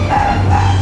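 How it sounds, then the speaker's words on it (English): A red terrier lets out a short, sharp bark, loud and close, in a brief burst with no speech over it. "That's a red terrier"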